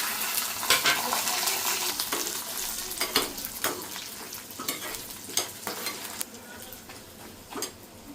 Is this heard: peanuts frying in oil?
yes